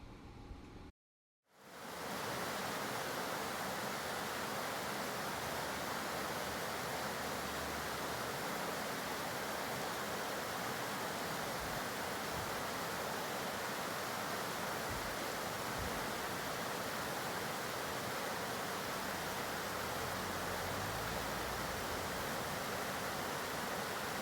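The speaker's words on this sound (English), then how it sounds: "we're going to stop a few places and stop and listen to that river a little bit" Water rushes steadily in the headwaters of a mountain river, a dense, unbroken roar that fills the whole stretch at constant loudness after a brief quiet start, with no voices.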